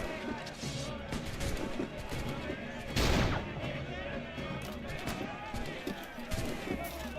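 Video game gunfire crackles in scattered shots and short bursts, with a heavier blast near the middle, while a player talks over the action.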